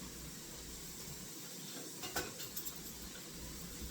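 Ten pounds of mirepoix vegetables sizzle softly in a pan over high heat, giving a steady low frying hiss, with a few light clinks of a spoon stirring against the pan.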